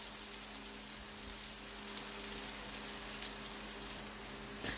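Garlic and chili sizzle steadily in hot oil while being sautéed until golden brown, a fine, even crackle close to the microphone with no talking over it.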